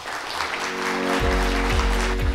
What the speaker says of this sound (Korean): 여러분 다시 한번 따뜻한 박수 보내주세요